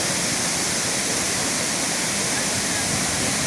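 Waterfall cascades at Burney Falls in northern California make a loud, steady rushing roar that holds unbroken and even from start to finish.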